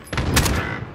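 Gunfire in the battle royale game Warzone: a dense burst of rapid shots starting a moment in and running close and loud through the second.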